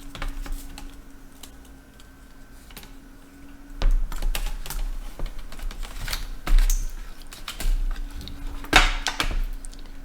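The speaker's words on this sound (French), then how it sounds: "Alors on va remettre le clavier." During a noisy-fan repair on a laptop, the keyboard is being refitted, producing scattered plastic clicks, taps and small snaps with a few louder knocks, close up against a faint steady hum, with no speech.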